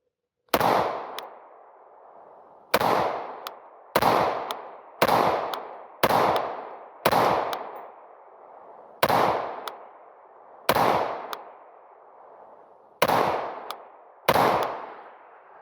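An AR-15 rifle fitted with a muzzle brake fires nine loud, sharp shots outdoors at uneven intervals of one to two seconds, each crack followed by a short ringing echo that decays before the next.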